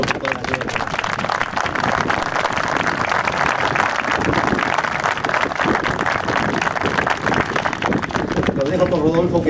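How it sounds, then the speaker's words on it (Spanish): An outdoor crowd at a field stop in Villa Mercedes applauds the families working the land, a dense, continuous patter of clapping lasting several seconds, with voices mixed in underneath. "quería pedir un fuerte aplauso para las familias que trabajan acá en el campo"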